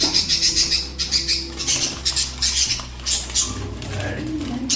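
Newly bought pet birds chirp and coo near the listener. The calls come in rapid overlapping bursts, with faint clatter and a low hum underneath.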